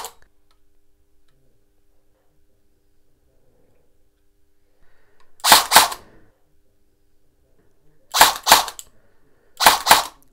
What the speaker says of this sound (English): Now obviously there, the motor is way too high.